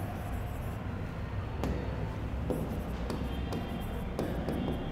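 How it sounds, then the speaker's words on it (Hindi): Chalk or marker writing on a board during a biology lecture, heard as faint, scattered taps and strokes over a steady room hiss. "हिंदी में लिखता हूं"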